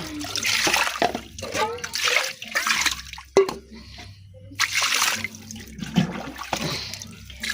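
Water trickles slowly into a container at home, a continuous hissing flow broken by a few short pauses, with a person talking over it throughout.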